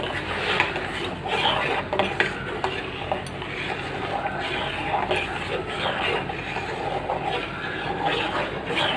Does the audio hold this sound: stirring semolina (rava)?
yes